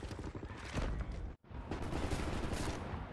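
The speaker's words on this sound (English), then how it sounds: "Right, lads, you ready to lay down suppressor fire?" Suppressing gunfire in Wolfenstein: The New Order, a dense, continuous roar of automatic fire and chaotic combat noise, broken by a brief silent gap, then resuming at full intensity.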